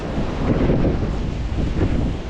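Steady, strong wind roars and buffets the microphone during a storm in Poltava, Ukraine, a broad low rumble that holds for a couple of seconds with no voices.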